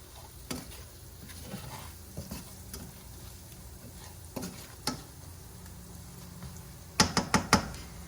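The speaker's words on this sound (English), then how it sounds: "And let this saute just a tad bit, loosen it up a little bit." Quiet sizzling of onions sautéing in a frying pan with occasional utensil scrapes and knocks, ending in a quick cluster of sharp clatters.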